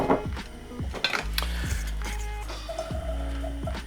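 Onions stirred in olive oil in a pan over medium heat for a steak sandwich: clanking utensil scrapes and knocks against the pan at irregular intervals, close and fairly quiet, with no voices.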